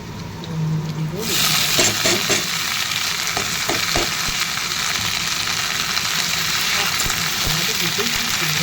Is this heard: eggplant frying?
yes